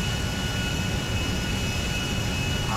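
A steady, loud engine roar from an Airbus airliner flown in a video game, with a constant low rumble and a thin high whine held unchanged throughout, no talk.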